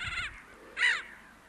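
Black-headed gulls on an urban lake give two harsh, strident calls; the second is closer and louder, with a quiet pause between them.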